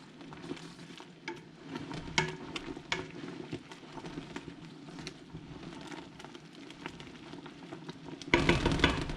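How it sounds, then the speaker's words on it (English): Cranberry sauce is stirred and squished in a pot over a soft sizzle and bubbling, with scraping strokes and wet squelches coming close and fairly quiet. The sound grows louder and busier near the end. "Give it a stir, a little squish."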